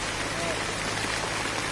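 Heavy rain pours steadily through a forest, a dense close hiss of drops on leaves and ground with no break, with a voice faintly present beneath it.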